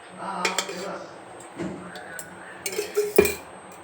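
A metal kadai is set down on a gas stove and oil is poured in, heard as a few scattered clanks and clinks of cookware and utensils with quiet gaps between them in a kitchen.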